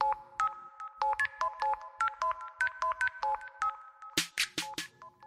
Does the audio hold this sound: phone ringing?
yes